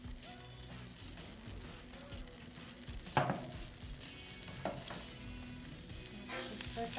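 Butter and olive oil heat in a pan, giving a quiet continuous sizzle with a couple of sharp metallic clinks from utensils, with no voices.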